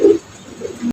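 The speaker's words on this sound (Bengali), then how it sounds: "আজকের ভিডিওর 13 নম্বর কবুতর এটা।" A house pigeon gives two short, close coos about half a second apart, low and soft, then cuts off abruptly.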